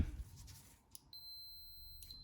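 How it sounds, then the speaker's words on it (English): A steady, high electronic beep from a Fluke multimeter on continuity test sounds continuously for about a second after a brief quiet moment, clear against a faint background. "I'm going to put it on continuity here, and if we hear a beep"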